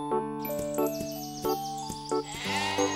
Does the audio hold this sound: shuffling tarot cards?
no